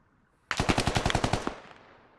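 Automatic rifle fire in the military shooter game Squad, a sharp burst of about a dozen rapid shots lasting around a second, loud and close, then a fading echo.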